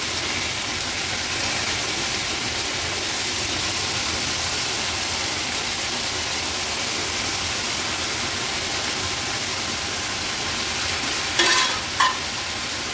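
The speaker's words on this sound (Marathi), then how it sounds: "हाय फ्लेमवर सुरुवातीला मी ह्याला मिक्स करून घेते।" Chopped cowpea leaves are stirred in hot oil in a pan over a high flame, making a loud, steady, continuous sizzle with a few brief scraping clinks near the end and no voices.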